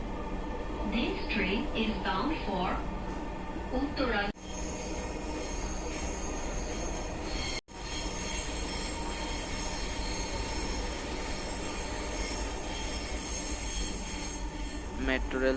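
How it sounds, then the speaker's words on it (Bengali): Riding aboard the Dhaka metro rail, a continuous loud rumble of the elevated train fills the cabin, with faint wheel squeal, a brief early voice and a couple of short dips in the steady roar. "এই গরমের ভিতরে আসলে মেট্রো রেলে চড়ার মজাটাই অন্যরকম"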